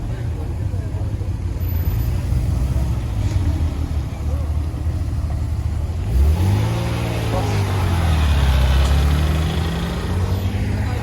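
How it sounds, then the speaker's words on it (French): A Ferrari sports car passing by on a road near Paris, a rising and falling engine note sweeping past at moderate distance over steady traffic noise, with people talking nearby. "La Ferrari"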